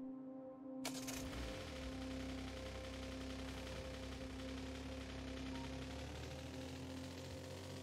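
Distant gunfire in the video game Factorio, a faint rattle of rapid shots sitting under a steady mechanical game hum that runs throughout, with no voices.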